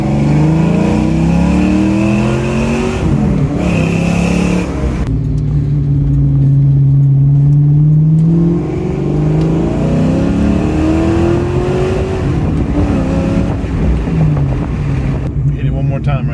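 Fox Body Mustang with an off-road H-pipe exhaust accelerating hard in second gear, a loud droning exhaust note rising and falling in pitch through the revs, with brief talk over it.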